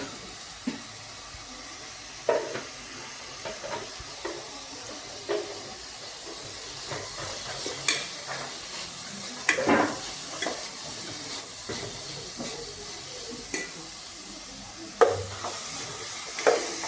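Ingredients for a Mangalorean chicken curry fry in a pan with a steady sizzling hiss, broken by scattered scraping stirs and clacks of a spoon against the pan, heard close up with no talking.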